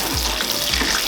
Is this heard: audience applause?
no